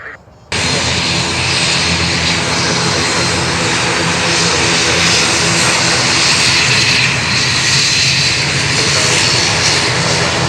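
Near Songshan airport in Taipei, an airplane takes off or lands in urban smog. Its engine roar starts abruptly and stays loud and close, a steady broadband rush that swells slightly toward the end.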